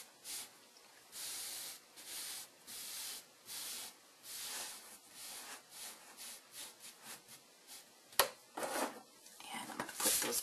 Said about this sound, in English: I'll use my rhinestone scoop to pick those up